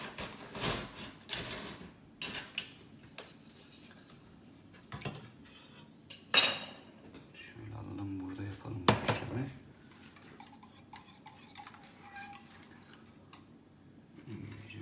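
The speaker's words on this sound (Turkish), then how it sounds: "Sosumuzu da üzerine koyup karıştırıp kalıbına geri dökeceğiz." Crushed biscuits and sauce are stirred together in a bowl for a mosaic cake, giving scattered scrapes and clinks of a utensil against the dish, separated by quiet pauses.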